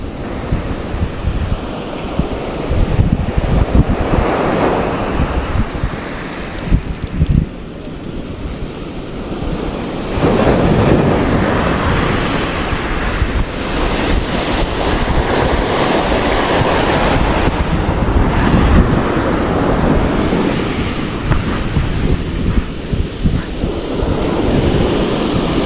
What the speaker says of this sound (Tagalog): Dahil grabing alon.